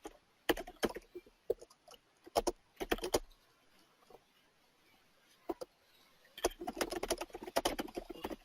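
Clicky bursts of typing on a computer keyboard, close and fairly quiet, in short irregular runs separated by pauses, with a longer flurry of keystrokes at the end.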